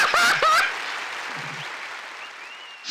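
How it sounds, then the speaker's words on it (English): In the video game Super Lesbian Animal RPG, a short applause sound effect follows a brief voice, a burst of clapping that quickly fades away. "The applause afterwards!"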